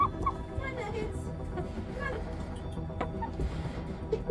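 Backyard chickens clucking in their run, a busy overlapping chorus of short clucks and calls continuing steadily, moderately close, with a faint voice in the background.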